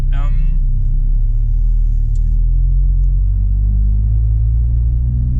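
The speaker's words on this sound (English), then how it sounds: "2 liters, 4-cylinder, and maybe you hear it, this sound. For me, the exhaust sound, it's not natural." Steady low engine rumble from the exhaust of a 2023 Mercedes-AMG SL43 with a 2-liter four-cylinder, droning continuously and fairly loud, with the pitch shifting slightly as it drives.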